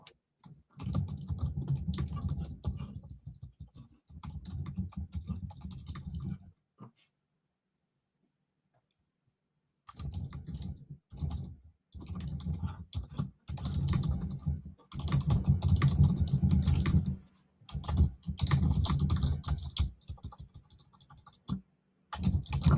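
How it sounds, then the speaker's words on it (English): Busy clatter of typing on a computer keyboard during an online true-crime interview breakdown: bursts of rapid close keystrokes, a pause of several seconds, then more typing and clicking with occasional quiet talking. "Oh, I'm typing."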